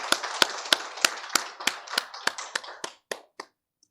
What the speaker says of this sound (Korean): 우리 화끈하게 박수 한번 치겠습니다